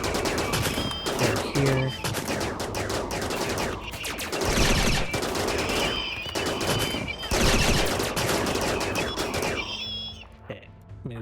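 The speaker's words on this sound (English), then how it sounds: "we should see that one firing off like a bit more" Gunfire in RimWorld with the RiftWorld mod: dense, rapid bursts of automatic shots crackle almost nonstop and fade out near the end, with a brief spoken comment over them.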